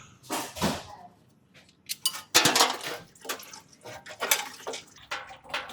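A metal oil drain pan is lined up under a car in a workshop bay, scraping and clanking in several short bursts with brief pauses, close by and with no talk.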